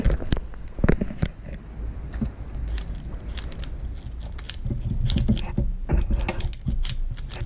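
Rapid clicking and rattling of small plastic differential gears spinning in a Traxxas LaTrax Teton RC car, with irregular ticks and a grinding whir close by.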